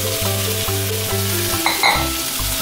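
A pot of pasta water boiling on a home stove, giving a steady, close bubbling hiss with a soft rhythmic pulse and no voices.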